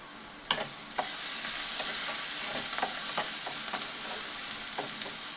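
Turmeric and garam masala stirred into a frying pan of sizzling tondli (ivy gourd), with a continuous hiss of frying and light, irregular scrapes of a spoon, opening with one sharp clink.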